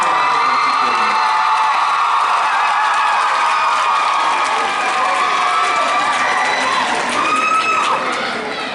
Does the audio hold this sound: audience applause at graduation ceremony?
yes